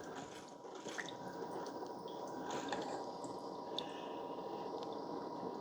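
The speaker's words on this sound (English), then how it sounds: "So it starts brewing right away." A Hamilton Beach 42500 coffee maker brewing hot coffee gives a steady gurgling, dripping and hissing wash of liquid with small pops, continuous and moderately quiet, with no talking.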